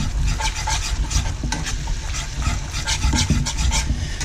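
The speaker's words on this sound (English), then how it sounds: "grab a fish spatula and just kind of almost use it like a whisk in the pan" A fish spatula scrapes and whisks butter into piccata sauce in a hot pan, a rapid rhythmic rasping and stirring over a steady sizzle, close and continuous.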